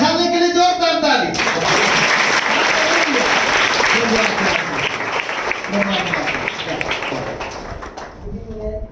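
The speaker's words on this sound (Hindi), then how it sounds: "बरं झाले के लिए जोरदार ताली।" A church congregation breaks into loud, sustained clapping and cheering during a service, a dense wash of applause that swells after a brief spoken lead-in and then slowly fades.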